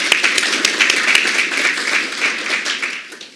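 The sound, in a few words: audience round of applause at authors forum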